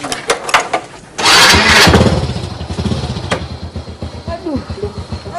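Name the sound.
motorcycle engine starting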